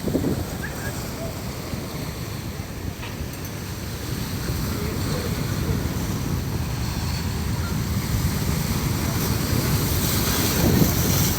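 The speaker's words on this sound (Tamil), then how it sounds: "அலைகள் எவ்வளோ வேகமாக வந்து மோதிருப்பாங்க." Rough ocean waves crash against a rocky shore lined with dumped stones, a steady loud roar of surf with a constant hiss and rushing water that builds slightly toward the end.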